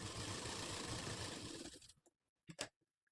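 A sewing machine stitches a katori blouse in a fast, continuous whirring run that stops abruptly, followed by a few soft clicks and taps.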